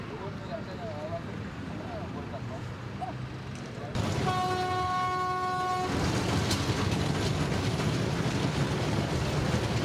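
A train running on a narrow-gauge railway laid in the French colonial era: a steady rumble of rolling wagons, with a loud sustained horn blast midway that cuts off, then the clatter carries on.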